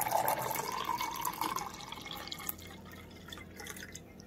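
Room-temperature water pours into a cup, starting with a bright stream whose pitch rises as the cup fills, then tapering to faint trickles and drips. No voices accompany it.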